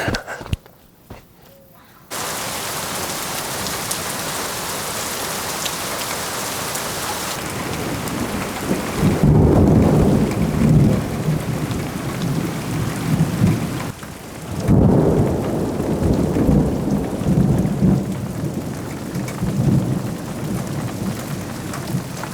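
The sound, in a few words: thunderstorm with heavy rain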